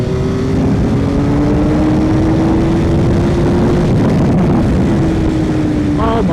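A track motorcycle engine screaming at high revs at speed on a circuit, loud and continuous with a steadily rising then easing pitch and heavy wind rush.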